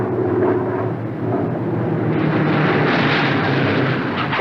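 A Douglas A-26 Invader twin-engine piston bomber roars steadily as it comes in level onto the runway to land, its engine noise loud and continuous with a rising, rushing wash toward the end.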